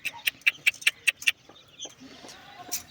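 Chickens in a coop cluck in a quick run of about six sharp, close calls, then fall away to a softer, busier background of faint bird sounds.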